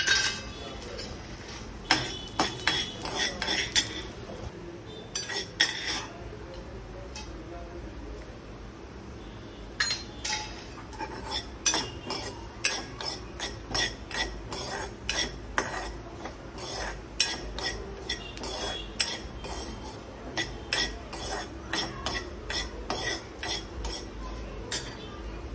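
Spices for traditional goda masala being roasted in a pan with a little oil, a spoon scraping and clinking against the metal in irregular bursts, fairly quiet and close, with no talking.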